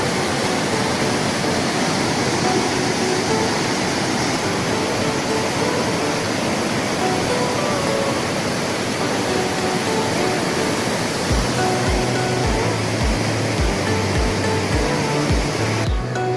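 Roaring Alaknanda river at Badrinath in Uttarakhand, a steady loud broadband rush of fast water continuing throughout, with a few low thumping knocks near the end.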